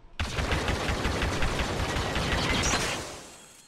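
Rapid bursts of blaster fire in the Star Wars Battlefront video game, fired manually as fast as possible. The shots are loud, dense and continuous for about three seconds, then stop and fade out.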